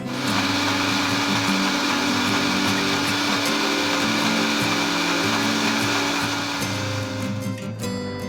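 An electric blender grinds Kashmiri red chilli chutney with water steadily and loudly for several seconds, a continuous whirring motor noise that cuts out right at the end.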